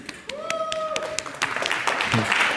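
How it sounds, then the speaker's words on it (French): An audience at a conference presentation of a Nantes–Montréal manifesto starts applauding after a brief voice and tone, and the clapping swells into a dense, steady roar through the second half. "On les applaudit"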